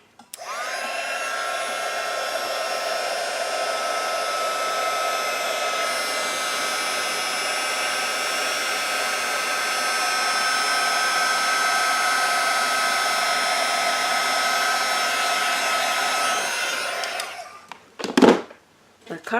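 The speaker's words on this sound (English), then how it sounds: "And here we go again with the heat gun." Heat gun blowing steadily on embossing powder over papercraft, a loud continuous whooshing hum with a faint whine that runs unbroken for about seventeen seconds before cutting off with a couple of brief clunks.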